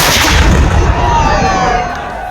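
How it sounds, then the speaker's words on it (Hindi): A cannon salute fired at a Janmashtami temple celebration at midnight: a very loud, close boom with a long rolling decay and crowd noise beneath as it fades. "श्री कृष्ण के भक्तों ने कन्हैया को 21 तोपों की सलामी दी।"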